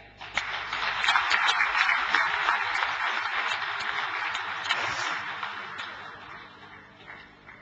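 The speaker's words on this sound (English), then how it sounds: "please give a big round of applause for our chief guest" A conference audience at the ICAP Golden Jubilee gives a big round of applause for the chief guest, the Honorable Chief Justice: dense, continuous clapping that swells early, holds, then tapers off toward the end.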